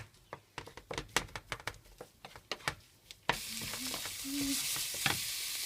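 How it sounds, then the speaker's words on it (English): Mincemeat and onion on high heat: first a run of sharp scraping stirs against the pan, then a sudden loud, steady sizzle with spatula scrapes over it as the meat goes in. "fried the onion for a minute on high heat, I'm going to add on the mincemeat and fry it for 2-3 more minutes."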